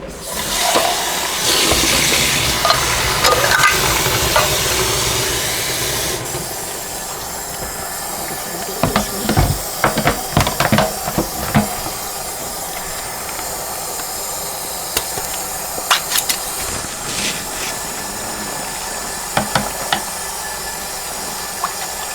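An Instant Pot pressure cooker holding ham and bean soup gives off a steady steam hiss, loud at first and then settling into a constant background rush, with scattered clicks and clatters of handling throughout.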